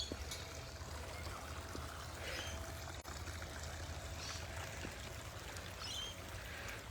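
Stream water flowing through botanic gardens, a steady broadband rush that holds at an even level from start to end with no talk over it.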